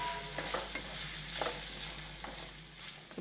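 Carrot coconut curry being stirred in a pan, with a steady close sizzle of frying and soft scraping spoon strokes repeating throughout, no talking.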